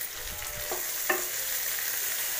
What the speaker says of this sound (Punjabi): ਤੇ ਇਹ ਮਸਾਲੇ ਨੂੰ ਹੁਣ ਆਪਾਂ ਚੰਗੀ ਤਰ੍ਹਾਂ ਭੁੰਨਾਂਗੇ।